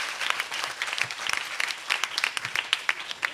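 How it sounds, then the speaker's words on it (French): A studio audience at a French television show applauds for a newly welcomed guest, producing a dense, steady patter of many hands clapping that lasts several seconds at moderate loudness. "On l'applaudit, les amis."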